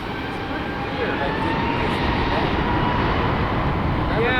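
An American Airlines Airbus A321-271NX jet takes off from runway 18R at DFW, a loud, continuous engine roar with a broad rumble that holds steady throughout.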